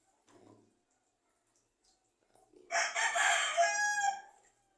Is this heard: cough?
no